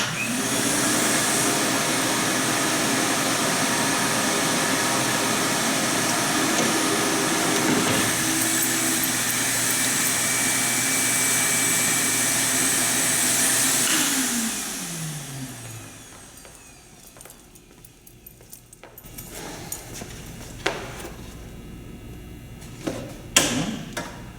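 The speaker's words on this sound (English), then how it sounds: "Turn on the vacuum." A vacuum cleaner runs in a workshop with a loud, steady whine and roar that then winds down as it is switched off, leaving quiet with a few small knocks and clatters.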